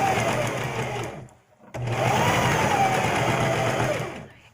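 Sewing machine stitching slippery fabric, a close steady whirring hum that pauses briefly, then resumes before winding down.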